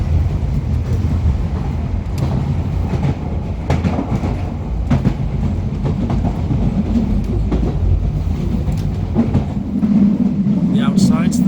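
London Underground District Line train rumbling along the track near Chiswick Park with steady low roar and occasional clicks and squeals, continuous and close, a faint voice briefly under the noise.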